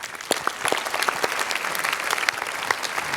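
Audience clapping at a Java programming event, a moderate crowd applause with scattered crisp individual claps, steady and mid-distance for a few seconds.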